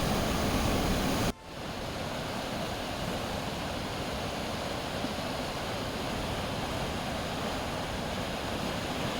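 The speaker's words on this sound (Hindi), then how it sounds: "तमाम जो नदी नाले हैं सभी में उफान आया हुआ है" Rivers and streams swollen by heavy rain in Jammu and Kashmir make a dense, continuous rushing roar, loud and close. It drops abruptly for a moment early on and then holds steady.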